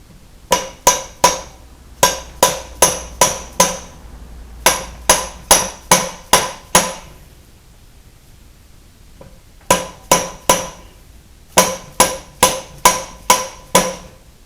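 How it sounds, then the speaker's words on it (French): A hammer tapping a part into a John Deere JD410 backhoe hydraulic cylinder during restoration, close, loud metallic strikes in quick bursts of five or six with short pauses between them. "Laissez-moi chercher un autre marteau encore et taper ça comme il faut dedans"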